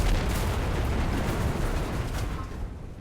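An anti-tank rifle fires at a tank in a video game, a loud, heavy boom followed by a long rumbling decay that thins out near the end, with no talking.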